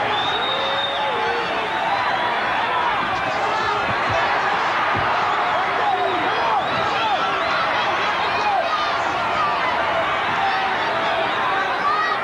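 A boxing match crowd roaring steadily throughout, a dense continuous wash of shouting and cheering that swells as punches land, with the thud of blows and commentary faintly mixed in.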